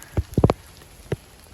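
Rain on a mountain hiking trail on Gunung Ciremai, heard as a few close, sharp taps and patters, like drops striking a rain jacket or plastic, scattered over a quiet hiss.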